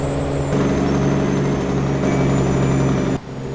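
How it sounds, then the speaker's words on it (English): A heavy truck's Jake brake in American Truck Simulator drones loudly with a rough, low rattling tone, then drops off abruptly near the end. "Let's see how the Jake brake sounds."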